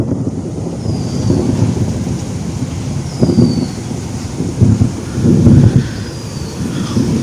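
Thunder from an approaching storm rolls in deep, heavy rumbles that swell several times over a constant bed of wind noise.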